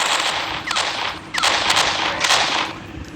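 Rapid bursts of gunfire in the horror video game Mother Bird, a few sharp volleys of close, loud shots separated by short gaps.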